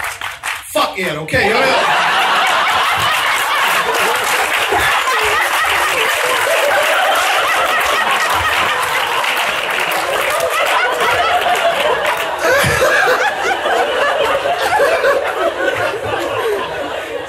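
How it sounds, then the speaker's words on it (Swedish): A comedy show audience breaks into loud, dense applause mixed with laughter and cheering, filling the room for many seconds while the comedian talks over it. "Applådera för höra."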